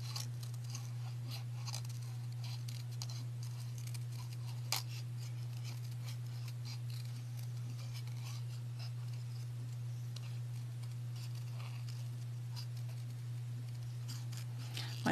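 Scissors make soft, steady snipping and rustling while fussy cutting patterned designer paper by hand, a quiet continuous texture over a low steady hum, with no talking.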